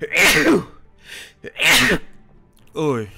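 A single loud, close sneeze from a Freddy character during a Minecraft Five Nights at Freddy's hide-and-seek game, followed by a second sneeze-like burst, with voices talking around it.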